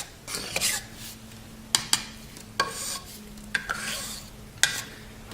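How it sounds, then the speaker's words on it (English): Wood stain being stirred in a can while refinishing a .22 rifle: a series of sharp scraping knocks and clinks of the stirrer against the metal can, spaced about a second apart, close and fairly quiet with a faint steady hum behind. "So I'm gonna stir my stain up real quick."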